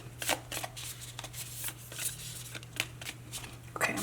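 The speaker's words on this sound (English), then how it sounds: "while I shuffle some more" A deck of oracle cards is shuffled by hand in a steady run of soft, close riffling and slapping bursts, with a low hum underneath and no talking.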